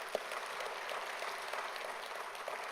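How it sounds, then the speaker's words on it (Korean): Congregation in a church sanctuary applauding the Sunday school teachers on Children's Sunday, a steady wash of many hands clapping at moderate distance, fairly soft and unbroken throughout. "우리 전사님들, 교사 선생님들 위해서 한번 박수 한번 하겠습니다."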